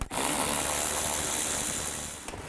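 A power tool with a 10mm socket spins bolts out of a 2013-19 Nissan Sentra panel near the fog lights, giving a close, steady whir lasting about two seconds before it stops.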